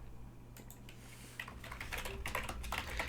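Typing on a computer keyboard to enter a folder path into CAD software, a quick run of faint clicking keystrokes that grows denser and a little louder after the first second and a half, with no voices.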